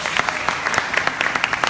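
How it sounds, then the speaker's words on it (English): An audience that includes seniors gives a round of applause at a comedy show, scattered claps popping out of a moderate, continuous crowd noise in a brief burst. "Give yourselves a round of applause."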